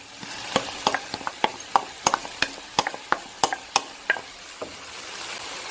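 Food frying in a pan is stirred in a home kitchen, giving a steady sizzle under a quick series of sharp scraping and clacking stirs, about a dozen distinct strokes in an uneven rhythm, close by.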